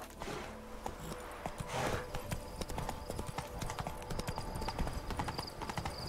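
Geralt's horse Roach in the video game Witcher 3 trots along a road, steady rhythmic clip-clop of hooves with light tack jingles, close and clear amid faint game ambience.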